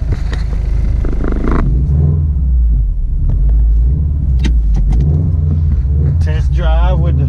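A car engine with a rebuilt IAG closed-deck bottom end and flat-top pistons rumbles steadily on a test drive, loud continuous road and engine drone throughout.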